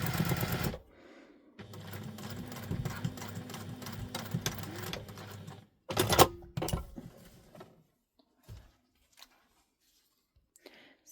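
Sewing machine stitching across a zipper tab on a handmade wallet, a steady rapid whirring run of stitches that stops, followed by a short burst and a few scattered clicks and handling noises.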